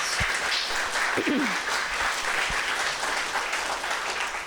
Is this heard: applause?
yes